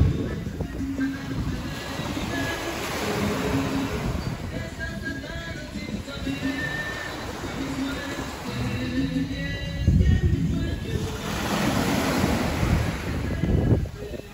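Caribbean Sea waves breaking along the coast at Guayanilla, Puerto Rico, around sunset, a continuous rushing surf with surges swelling louder near the end, mixed with buffeting wind noise on the microphone.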